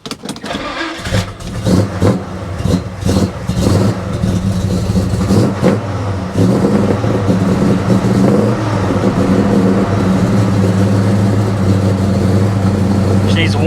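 A 1969 Chevelle SS with a modified, non-stock engine cranks and catches after about a second, then settles into a loud, deep, lumpy idle with brief revs, heard up close.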